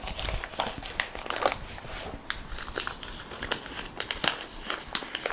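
Plastic packaging from a DJI Osmo Pocket 3 Creator Combo crackles and crinkles close up in a dim room, a steady run of sharp rustles and small snaps as pieces are handled and pulled apart.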